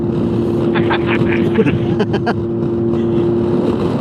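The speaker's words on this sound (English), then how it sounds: "Oh, wait, that's just turning the engine on." A 2022 Honda ADV150 or 2015 Honda PCX150 scooter engine turns on and runs with a steady, even hum, while people talk loudly over it.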